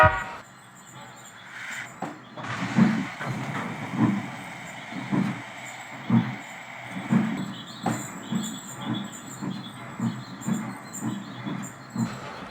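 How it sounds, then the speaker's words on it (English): Rumbling railcars of a disabled train being towed by a coupled locomotive roll along the track with rhythmic wheel clacks over rail joints, a low steady drone beneath the repeating thumps. "They coupled up to the stricken train and pulled it to Denville."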